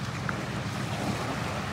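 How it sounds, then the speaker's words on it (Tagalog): Water waves at Green Point Beach wash in as a steady, close rumbling surge with wind noise buffeting the microphone, continuous throughout with no talking. "Oh, ang ganda ng mga alon ng tubig,"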